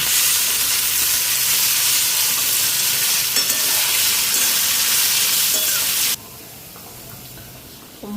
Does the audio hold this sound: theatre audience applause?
no